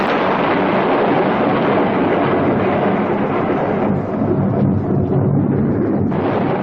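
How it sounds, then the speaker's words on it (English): A deep, sustained rumble of thunder rolls on for several seconds, loud and broad, with no voices. "Eight years later, The Prisoner opens with a thunderclap."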